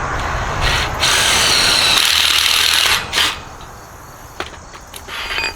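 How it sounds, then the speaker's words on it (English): A power drill with a 1/4 inch bit bores through wood, a loud close whine lasting a few seconds before easing off, followed by short bursts and rattles. "And I'm gonna mark it with this 1/4 inch drill bit."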